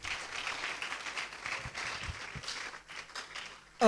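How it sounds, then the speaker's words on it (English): A forum audience at the Volta Fair Sport Development Forum claps in a steady, dense round of applause for about four seconds, moderately distant, ending in a sudden louder sound. "Can we clap for him again?"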